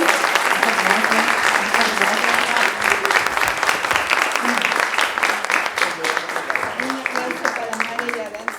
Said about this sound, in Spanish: Un aplauso para Mare y Aranza